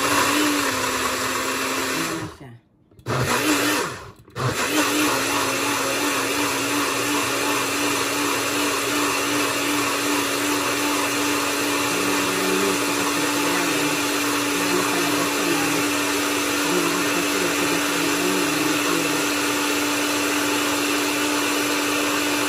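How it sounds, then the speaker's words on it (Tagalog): A small kitchen blender mixes a health drink with a steady, loud motor whir that runs almost throughout, broken by two brief stops near the start before whirring on unchanged. "ilalagay ko na dito sa aking mixer"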